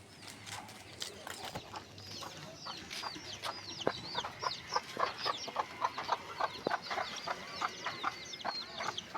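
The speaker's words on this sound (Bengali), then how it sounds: "ওইদিকে মুরগির বাচ্চা আর মুরগির মারা আছে।" Hens and chicks cluck and cheep in rapid, overlapping bursts at a busy village market in the afternoon, with fairly close, continuous chatter from the birds.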